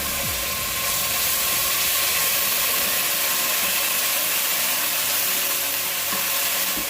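Ginger garlic paste fries in a hot pan with a loud, steady sizzle and hiss, alone and without pause, and a faint clink of a utensil comes early on.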